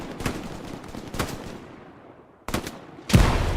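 Bursts of machine gun fire in the WWII shooter Hell Let Loose, a few separate loud reports with echoing tails and a sharper, closer shot at the end.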